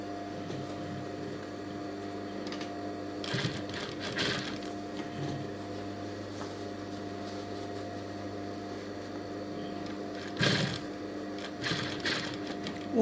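A sewing machine stitches a felt strip, a faint steady mechanical whir running continuously with a few louder bursts of handling noise, and no one talks.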